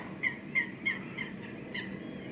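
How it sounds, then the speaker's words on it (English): Seagulls call over a canal in a short series of about five sharp cries, moderately near, above a steady low rumble of a cruising boat. "I think some of the seagulls are keeping pace with us."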